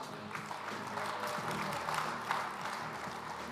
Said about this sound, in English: How about a round of applause for these finalists?